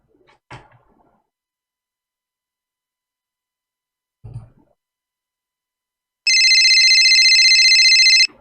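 A telephone ringing tone sounds as a call is placed: a loud, steady electronic tone lasting about two seconds, preceded by two soft isolated knocks in otherwise near silence.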